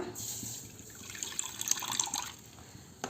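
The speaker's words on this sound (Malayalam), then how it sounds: "അതിലേക്ക് പുളിവെള്ളം ഒഴിക്കുക" Tamarind water pours into a pot for a dried shark curry as a soft, steady liquid stream, faint and close, with no talking.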